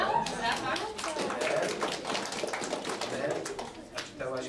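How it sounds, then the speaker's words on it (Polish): Clapping at a children's art competition award ceremony in a school setting, moderate applause from a modest audience with an adult voice speaking over it. "Brawa, brawa."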